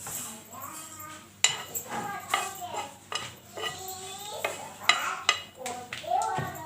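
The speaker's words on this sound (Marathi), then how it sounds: "आपण खोबरं तीळ आणि जिरे टाकू भाजायला पहिले" Grated coconut, sesame seeds and cumin dry roasting in a pan, a spatula scraping and clinking against the metal in quick, uneven strokes with a light sizzle, as a voice talks underneath.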